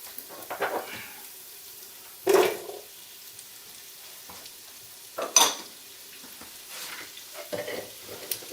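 Carrots frying in melted butter in a home kitchen pan give a faint, steady sizzle, broken by several sharp clinks and scrapes of a utensil against the pan.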